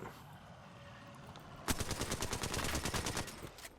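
Rapid bursts of gunfire from a first-person shooter video game, a quiet stretch of game ambience giving way to loud, dense automatic shots that rattle on for about two seconds before easing off.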